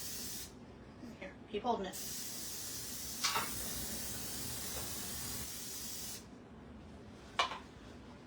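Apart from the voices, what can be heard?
cooking spray sprayed on cookie tray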